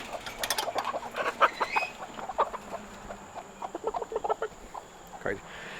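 Chickens kept in a backyard pen beside a garden cluck in a busy run of short, irregular calls, fairly close and moderately loud, with a steady hum in the background.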